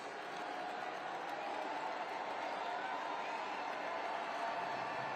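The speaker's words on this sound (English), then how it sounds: "Crowd rises." A stadium crowd at a US Open Cup soccer match between Austin FC and New Mexico United rises and cheers during a corner kick, a dense, steady roar of many voices that holds at an even level from start to finish.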